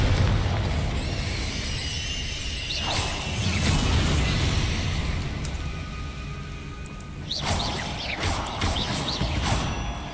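Confringo and other combat spells in Hogwarts Legacy erupt in repeated loud explosions, booms and whooshes over about ten seconds of dense battle noise, each blast followed by crackling debris.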